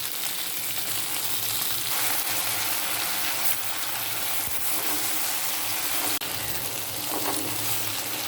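Okra frying in a pan with mustard paste, a steady close sizzle with soft stirring and wet bubbling, continuous throughout with no voices.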